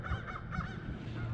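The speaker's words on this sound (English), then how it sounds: "I got excited thinking there was something, but you know, it's just geese." Geese call on a calm lake in a brief burst of honking, moderately distant and fairly faint, with no other noise around them.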